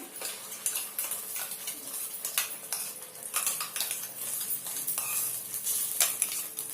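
Ground spice paste for an Afghani egg curry fries in hot oil, a steady close sizzle with frequent scraping and clinks of a spoon stirring against the pan, no voices.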